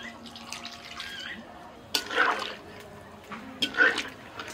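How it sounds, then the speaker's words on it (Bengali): Water is poured into a pot of potatoes and biryani spices for an oil-free egg biryani, splashing in two short close bursts over a quiet, low hiss. "এবার জল দিয়ে দিচ্ছি।"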